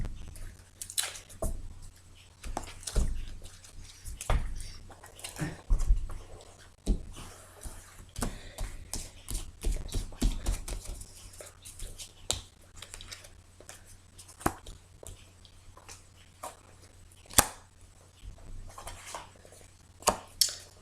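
Tarot cards are cut and shuffled by hand, a long run of soft irregular papery snaps, slides and taps close by over a faint steady hum.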